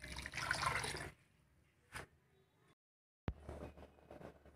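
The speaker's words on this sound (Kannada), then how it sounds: "ಸೊ ಈಗ ಇದು ಮಿಕ್ಸ್ ಮಾಡಿಕೊಂಡು ನೀರು ಹಾಕ್ಕೊಳ್ಳೋಣ ಇದಕ್ಕೆ" Water poured into rajma masala gravy in a pan, a short splashing pour up front, then a brief clink, a silent gap and a sharp knock followed by quieter stirring sounds.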